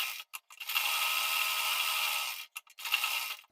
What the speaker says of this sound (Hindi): अब हम मेन फैब्रिक और अस्तर फैब्रिक को बड़ी बखिया से सिलाई लगा देंगे साइड साइड से